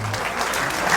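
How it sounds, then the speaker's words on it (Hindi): A crowd at a poets' gathering applauds a poet in a brief, dense burst of clapping that fills the moment evenly, somewhat distant. "भैया के लिए एक बार जोरदार तालियां हो जाएं"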